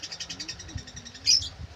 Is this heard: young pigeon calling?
yes